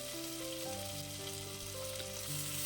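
Ripe tomatoes with salt, asafoetida and turmeric frying in a pan for Udupi rasam, giving a steady, soft sizzle with faint tonal hum beneath, no talking.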